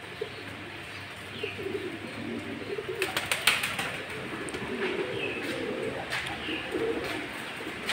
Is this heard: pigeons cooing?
yes